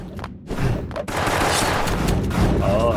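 Rapid bursts of video game gunfire crack out loud and close, overlapping in a dense volley with heavy thumps.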